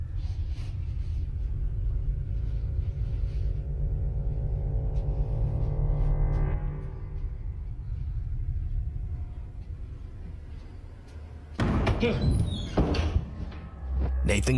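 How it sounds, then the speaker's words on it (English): A creepy creaking door in a horror game, a slow drawn-out groan over a low rumble, followed near the end by sharper knocks and clatter, with people talking faintly at times. "That's a creepy ass door sound"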